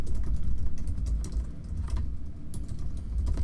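Typing on a computer keyboard into a web form for an email app gives rapid, close keystrokes in an uneven rhythm, with occasional sharper clacks over a low rumbling background and no talking.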